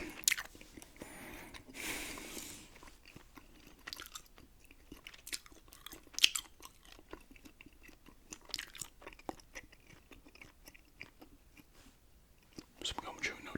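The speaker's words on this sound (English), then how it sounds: "Some gum chewing, no talking there for a second." Gum chewing close to the mic: soft wet smacks and clicks scattered through the clip, quiet and irregular, with a few breathy whispery moments and no talking.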